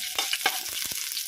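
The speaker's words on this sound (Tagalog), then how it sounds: "Atong ipapaig na ang mga lamas sama sa sibuyas ug ahos" Onion and garlic sizzle and crackle steadily in hot oil, a close, busy sautéing hiss with a few louder spits and stirring knocks.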